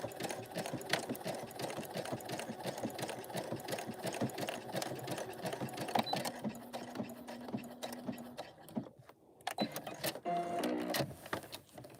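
A sewing machine stitching a bag, running in rapid, steady bursts with short pauses and clattering mechanical noise, close and fairly loud.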